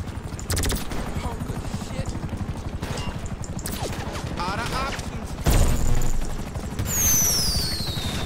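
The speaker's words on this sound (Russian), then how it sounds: "Ух ты, блин, две вертушки." In Grand Theft Auto V Online at Del Perro Pier, the steady rapid chopping of two helicopters' rotors drones throughout, with bursts of gunfire and a whistling sweep near the end; a voice talks at times.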